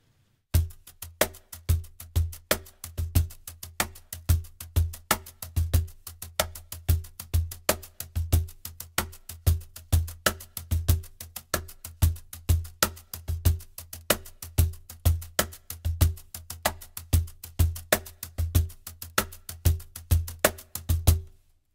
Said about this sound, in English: All the 16 notes that we don't play with the left hand, we can fill in with a brush.